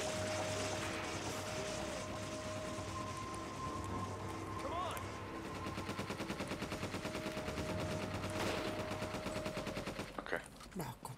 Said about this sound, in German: Es ist praktisch, ein Maschinengewehr zu haben mit 150 Schuss.